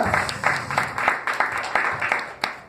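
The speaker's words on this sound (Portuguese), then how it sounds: "E dê uma salva de palmas para o nosso Deus" A church congregation claps in a roughly regular rhythm, the bursts of hand claps moderately loud and close, with light crowd noise between them.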